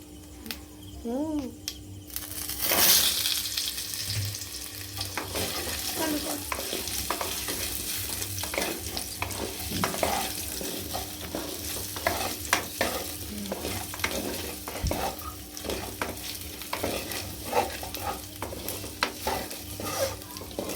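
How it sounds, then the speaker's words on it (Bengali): Potato pieces tipped into hot oil in a wok with bay leaf and spices, then stirred, giving a steady close sizzle with scraping spatula strokes throughout; a brief voice is heard near the start. "এবার আমি আলুটা ঢেলে দেবো।"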